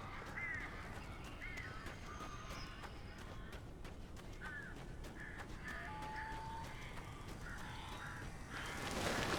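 Crows in Alan Wake caw harshly several times at a middle distance over a low rumbling ambient bed, the calls scattered irregularly, with no voices.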